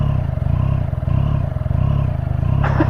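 Triumph Street Triple A2 motorcycle engine with its stock exhaust, idling close by in a steady, low, lumpy putter with a faint clatter, then a brief sharper noise near the end.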